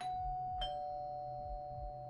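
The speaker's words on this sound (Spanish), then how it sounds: "tocó el timbre" A doorbell rings twice, a bright two-tone ding-dong and then a second press, clear and fairly close in an otherwise quiet setting.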